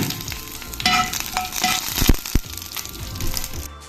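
Mustard seeds and dried chillies fry in hot coconut oil, making a close, busy sizzle with sharp popping crackles and a few louder knocks as the pan is stirred.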